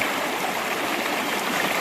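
Water of the San Gabriel River's East Fork rushes past in a steady, broadband wash, loud and close, with no talking over it.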